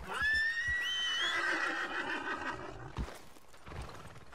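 A horse lets out a long, loud whinny in Red Dead Redemption 2, followed by scattered hoof clops on a hard surface.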